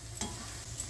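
Masoor dal phool vada fritters fry in hot oil, giving a soft, continuous sizzle with faint crackles and no one talking.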